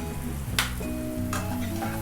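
Onions frying with salt in a pan, a steady close sizzle and crackle running throughout with a couple of brief louder bursts, no voices.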